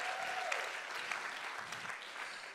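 A church congregation at a healing and deliverance revival service claps for people standing up, a fairly soft, continuous patter of many hands with a brief tonal whistle near the start.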